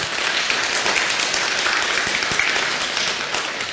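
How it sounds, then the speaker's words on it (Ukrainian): An audience applauds workers being honoured at a ceremony, a dense, even wash of clapping that holds steady and close throughout, with no speech over it. "Будь ласка, оплески"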